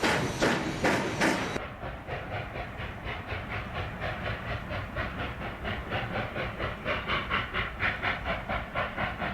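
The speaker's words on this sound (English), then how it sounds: "the locomotives work hard just west of Lobato" A pair of Rio Grande narrow gauge steam locomotives work hard hauling a train near Lobato, their rapid rhythmic exhaust chuffs beating steadily over hiss after a short burst of noise at the start, mid-distance with no talk.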